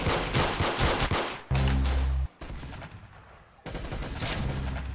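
Gunfire in the Roblox Arsenal first-person shooter: loud rapid bursts of shots, then a heavy booming blast, followed by a duller burst and more sustained firing, with no speech.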